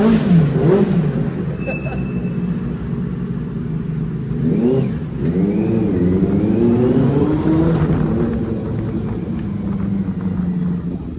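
A super bike's engine revs close by, rising and falling in repeated throttle blips over a steady idle drone, with people talking over it.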